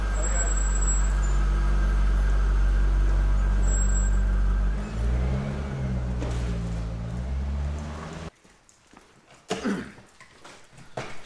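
A heavily modified Subaru Legacy GT engine idles and revs up nearby, shifting in pitch as it moves off, followed by quieter shuffling noises and a cough.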